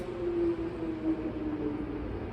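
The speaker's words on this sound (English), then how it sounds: "Sorry for that motorcycle noise going on out there." A motorcycle passing outside gives a steady low engine drone, holding at an even level throughout without any voices, heard from inside the Glendale Civic Auditorium.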